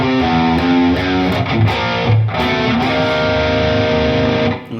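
Heavily distorted electric guitar plays a full riff at a slow pace, with loud sustained chords and slides that ring out and fade at the end.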